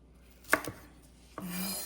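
Fresh okra is sliced on a board with two or three quiet knife taps, a short pause, then another soft chop, close and faint with no talk.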